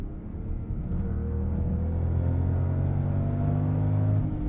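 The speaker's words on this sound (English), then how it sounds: "I don't even mind the sound of the engine." Inline-six engine of a 2024 Range Rover Velar accelerating, a steady loud rumbling drone with rising harmonics heard from inside the cabin, held continuously without talk.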